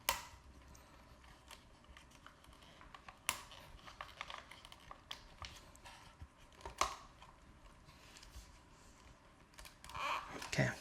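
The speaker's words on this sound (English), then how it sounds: "Make sure you hear a clicking noise." Sharp plastic clicks and snaps ring out irregularly as tabs are pressed into place on a Tesla yoke steering wheel, close and quiet, with handling noise between them.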